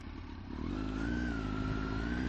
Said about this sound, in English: you've got quite a loud exhaust